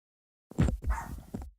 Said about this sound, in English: I guess he's just going to bark